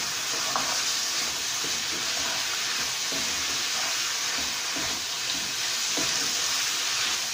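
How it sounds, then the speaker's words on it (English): Lamb liver cooked with spices, stirred in a hot pan, gives a steady close sizzle and frying hiss, with soft scraping strokes of the spoon breaking through at intervals and no talk. "Now I'm going to mix everything together."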